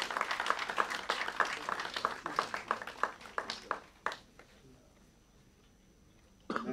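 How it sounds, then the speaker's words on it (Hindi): Audience applause at a live event honoring Bollywood singers, a dense burst of clapping over the first four seconds that fades to near silence, then a brief loud rise at the end. "संदेश सागरिया भाई के लिए जोरदार तालियां।"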